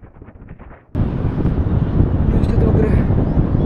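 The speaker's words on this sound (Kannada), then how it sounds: "ಗಾಳಿ ಸಿಕ್ಕಾಪಟ್ಟಿದೆ" Strong wind buffets the microphone at the top of a tower, a loud, steady roaring rumble that begins abruptly after a quieter opening and continues without a break.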